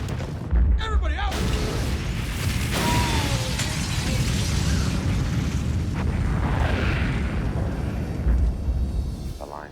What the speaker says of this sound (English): I heard the sound of an explosion just before it cut off